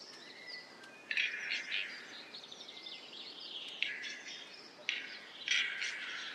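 Male birds call in short, bright, chattering bursts over a snow-covered forest floor, several clustered calls spaced across a few seconds against a faint hiss of background.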